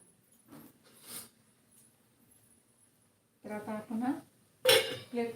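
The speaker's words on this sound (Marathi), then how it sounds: "तर आता हा तयार झालेला आहे आपण आता हा प्लेटमध्ये काढूयात" Sabudana khichdi being served from a pan onto a plate, heard as a few separate clinks and scrapes of a metal spoon against cookware, close and intermittent with quiet gaps between.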